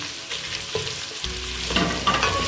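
Whole garam masala and cumin seeds fry in hot oil for mutton pulao, a close sizzle that swells sharply partway through as a spoon stirs and scrapes the pan, with no voices.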